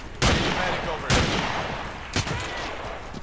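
Three loud, sharp gunshots from Battlefield 2 played with the Omnicide mod, spaced about a second apart, each with a short echoing tail over faint game ambience.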